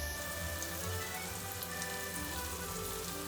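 Garlic sizzling in a sautéing pan of vegan mushroom bourguignon with red wine, a steady, even crackle and hiss like light rain, with no talk.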